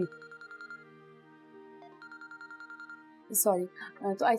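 A mobile phone ringtone plays in a pulsing, repeated pattern, stops briefly, then resumes before people begin talking over it in a drama scene.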